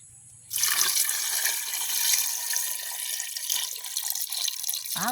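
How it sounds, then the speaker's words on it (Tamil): Water pours steadily into a cooking pot holding cassava with a rushing, splashing sound, starting abruptly after a brief pause and continuing close by. "இது நாங்கள் அளவாக தண்ணி விடுவோம்."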